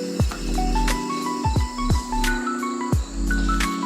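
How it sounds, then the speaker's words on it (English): Bees hum steadily around an opened hive, close and fairly loud, with a few quick downward-sliding tones over the drone. "A lot of bees."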